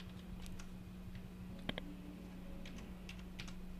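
Numbers typed on a computer keyboard in short, light clusters of clicks, faint and close, over a steady background hum.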